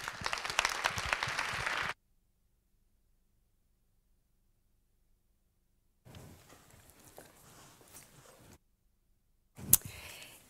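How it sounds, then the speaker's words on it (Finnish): A hall audience at a youth presidential-candidate panel claps for the panel hosts in a short, dense burst of applause lasting about two seconds, followed by silence and some faint scattered rustling. "Annetaan juontajille raikuvat aplodit."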